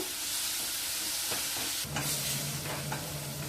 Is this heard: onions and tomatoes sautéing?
yes